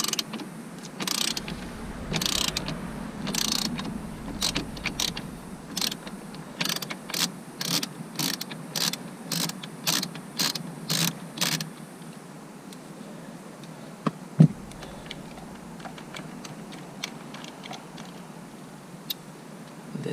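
A ratchet with an extension loosens a nut on a Nissan Micra steering column, clicking in a quick series of sharp, close ticks in bursts, then tapering into lighter scattered clicks and a single knock.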